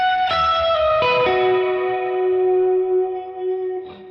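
An electric guitar lead played with overdrive and chorus effect: a few sustained, sliding high notes ring out with a shimmering, slightly warbling tone, loud and close, with no voices.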